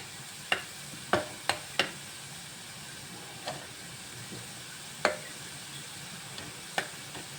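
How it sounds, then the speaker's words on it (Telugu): Low hiss of food frying in ghee with sugar, with several sharp scraping stirs of a spoon against the pan spaced irregularly over a quiet sizzling background. "కొంచెం నెయ్యి వేసుకొని ఇట్లా ఫ్రై చేసుకోండి కొంచెం షుగర్ వేసుకోండి"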